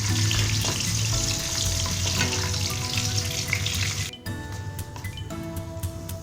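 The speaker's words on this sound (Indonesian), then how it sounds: "dengan minyak yang sama di sini aku menggoreng cabai, bawang merah dan bawang putih sebelum kita blender" Chili, shallots and garlic fry in hot oil with a loud, close, continuous sizzle, broken by stirring and a brief dip in the crackle near the end.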